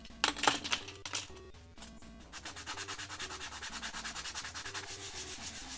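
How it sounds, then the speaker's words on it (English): Scratchy sanding of small 4mm plywood parts, starting with a few irregular louder strokes then settling into a quick, even back-and-forth rasping rhythm, close and fairly quiet, no talking. "After sanding the parts"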